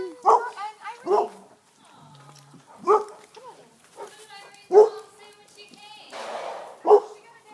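Several puppies yip, bark and whimper in short repeated bursts close by, with quieter whines between them and people talking nearby.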